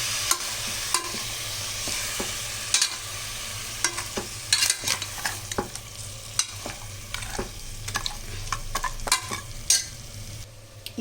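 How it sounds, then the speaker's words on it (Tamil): Half a kilo of mutton breast bones sautéing in a pan, a steady sizzle broken by frequent sharp spoon scrapes and clatters as they are stirred, close and fairly loud. "இப்போ இதை நல்லா கொஞ்சம் லைட்டாக வதக்கிக்கலாம்."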